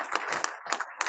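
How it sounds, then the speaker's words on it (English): Scattered audience clapping at an induction ceremony, a short burst of a few hands in uneven rhythm with small gaps between claps. "Please clap for them"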